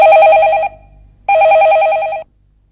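A loud, close telephone bell rings in two long bursts separated by a short pause, with no voices over it.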